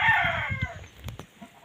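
A rooster lets out a loud, drawn-out crow in a farmyard with a chicken enclosure, followed by short, scattered clucks from the hens as the call fades.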